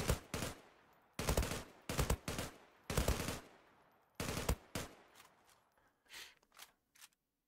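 Automatic gunfire sprays targets on a firing range in the game Zula, loud rapid bursts of several shots each separated by short pauses, with later bursts shorter and fainter.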